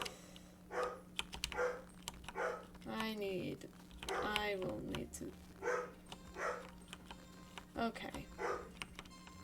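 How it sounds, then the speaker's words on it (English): A dog barks somewhere in the house in a series of short, muffled yaps scattered over several seconds, mixed with steady computer keyboard typing and a person speaking nearby during an online game. "He is sure barking."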